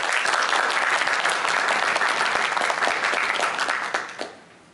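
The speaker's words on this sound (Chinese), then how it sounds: "那大家给他一个掌声，谢谢。" Steady, dense applause from a concert audience at a university wind band's annual concert, many hands clapping loudly and evenly before fading out near the end.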